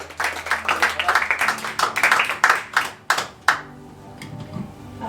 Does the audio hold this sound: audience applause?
yes